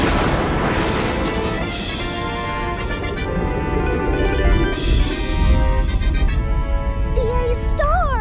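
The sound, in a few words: star exploding in an animated astronomy show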